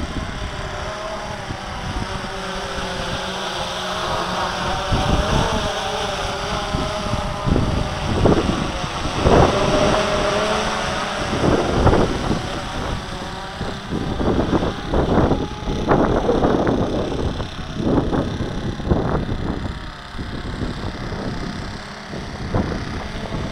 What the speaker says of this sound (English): The wind is really, really messing with it.